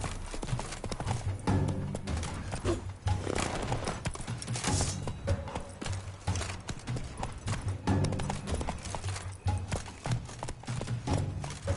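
Horse hooves galloping steadily in The Witcher 3 video game, a quick rhythmic clip-clop that runs throughout, close and fairly loud, layered over game music and ambience.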